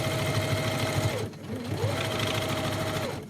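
A sewing machine stitches around a lunch bag, its fast motor hum close and steady, dipping briefly to a near stop before speeding back up to a continuous run.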